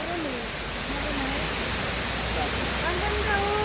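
Hinulugang Taktak waterfall in Antipolo roars as a dense, steady rush of falling water that fills the whole clip, with faint voices and whistle-like tones briefly audible beneath it.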